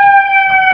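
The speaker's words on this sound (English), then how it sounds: "My bad for the sirens" A loud, steady emergency vehicle siren wails close by on a Chicago street, holding a strong, unbroken tone.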